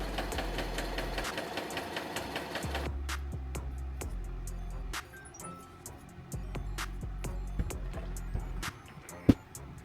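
A sewing machine runs zigzag stitches joining fabric panels for homemade shorts, a rapid mechanical clatter that stops partway, then returns in shorter bursts with small clinks and one sharp tap near the end.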